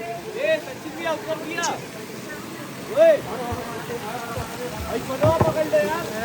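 Water splashes and pours continuously from stone spouts at Muktinath, Nepal, in the background while several people talk and call out nearby.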